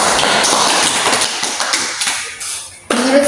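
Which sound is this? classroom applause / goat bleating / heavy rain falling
classroom applause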